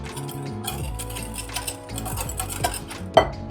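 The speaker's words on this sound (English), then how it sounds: "I'll give that a quick stir together" Glutinous rice flour, caster sugar and salt stirred together in a bowl, giving a series of close metallic clinks and scrapes from a utensil against the bowl, ending in one louder knock.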